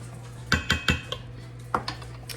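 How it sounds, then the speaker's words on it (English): A spoon stirs a simmering dinner pot, knocking against the metal in a quick cluster of three clinks, then a few more scattered taps, close and clear. "Stirring it every now and then until it gets good and thick."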